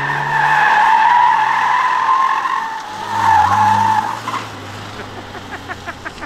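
A stock Nissan Skyline KPC10 Hakosuka drifts with its tires squealing loudly and steadily, the squeal rising and falling against a low engine drone, then fading into shorter chirps.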